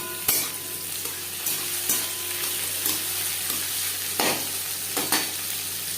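Chopped tomatoes go into fried onions in a pan for a Bengali katla fish roe and eggplant chorchori, with a constant sizzle broken by several sharp scrapes and clacks of stirring.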